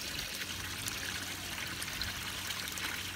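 Water spilling from a small aquaponics waterfall, a steady close trickling and splashing that carries on evenly without pause and with no voices.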